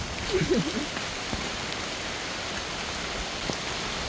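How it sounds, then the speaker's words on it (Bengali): Heavy rain pours steadily over a canal during traditional spear fishing in Bangladesh, a dense, even hiss that fills the whole stretch, with a brief murmur of voices near the start. "দর্শক বৃষ্টি ধরছে প্রচন্ড"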